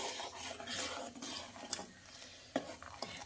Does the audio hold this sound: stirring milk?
yes